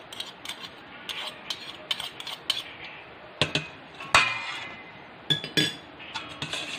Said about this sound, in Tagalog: Mix natin ng mabuti.